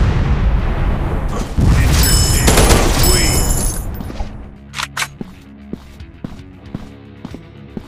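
A grenade blast in a mobile robot shooter game on Android erupts as a loud, broad boom that rolls on for a couple of seconds amid game noise. Sharp gunshots and clicks follow more faintly.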